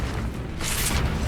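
A loud, sustained boom from the Bombarda blast spell fills a Hogwarts Legacy fight, a dense explosive rumble with a brighter burst partway through.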